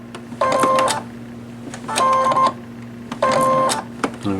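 A sewing machine stitches a buttonhole in three short mechanical bursts of rapid stitching, each about half a second to a second long, separated by quieter pauses with a steady low motor hum underneath.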